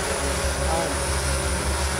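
A firefighting drone helicopter flies close by with a steady, loud rotor and engine whine that fills the whole moment without a break.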